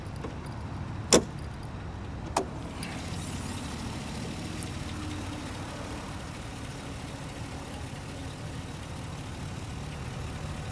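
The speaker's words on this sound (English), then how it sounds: "Got that beautiful big V8 engine" Big V8 engine of a Chevrolet SS idling with the hood open, a steady low rumble held throughout at close range, with a couple of sharp metallic clicks early on.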